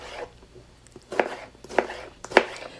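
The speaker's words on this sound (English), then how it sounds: "I'll continue slicing and cubing my tomato" Three sharp knife chops on a cutting board, spaced about half a second apart, as a tomato is sliced and cubed for chorizo spaghetti. The cuts come through close and distinct over a quiet background.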